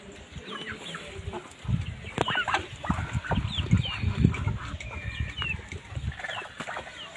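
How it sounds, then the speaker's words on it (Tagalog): Hens cluck in short, scattered bursts, fairly close, with occasional higher squawks and a faint background murmur. "Yan yung nangingitlog na manok ko."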